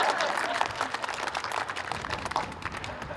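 An outdoor audience at a fort opening claps steadily, a dense patter of many hands at moderate distance lasting the whole stretch without fading.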